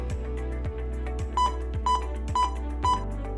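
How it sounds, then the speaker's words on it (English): A series of short electronic beeps from a Rosie emergency dialer unit after its help button is pressed, about five evenly spaced tones, over a steady low hum. "The dialer will then beep several times"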